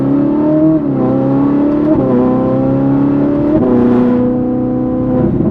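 Ferrari accelerating up to about 60 mph on an open road, engine revving loud and close through several rising pulls with brief dips at each gear change.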